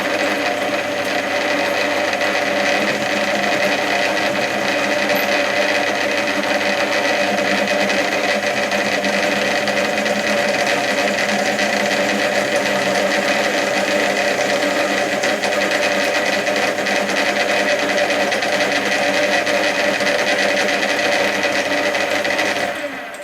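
A metal lathe facing off the end of a part on a Dino Ferrari 246 GT replica project, giving a steady, loud machining whine and hum that runs without a break and fades only at the very end.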